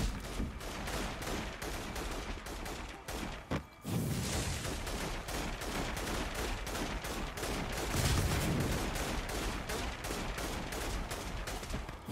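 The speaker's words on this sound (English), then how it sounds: "Cops are shooting at" Rapid, dense gunfire crackles nonstop as cops shoot at drug dealers in inFamous Second Son, a loud, busy fusillade of shots with a couple of heavier bursts.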